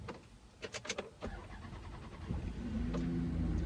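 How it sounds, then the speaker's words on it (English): A car engine starts with a few clicks and a short cranking burst, then catches into a steady rising idle that grows louder toward the end. "I just started a car."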